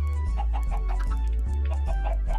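Minecraft chickens clucking, a quick run of repeated short clucks close up over a low steady background hum.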